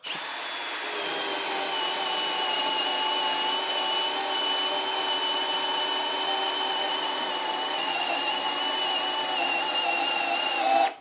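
A cordless drill set to speed 3 in drill mode bores steadily into wood, giving one continuous high motor whine with a constant pitch for about eleven seconds that cuts off sharply at the end.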